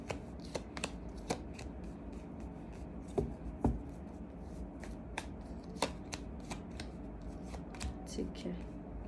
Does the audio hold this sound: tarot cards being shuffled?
yes